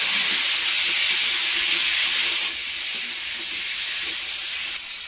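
Cut potatoes fry in hot oil with onions in a kadai, giving a loud, steady hissing sizzle that eases slightly partway through and carries on without pause.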